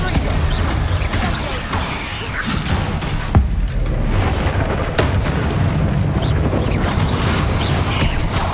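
Confringo blasting curse explosions in Hogwarts Legacy, booming and crashing within loud, continuous spell combat full of whooshes and impacts, with a few sharper blasts standing out.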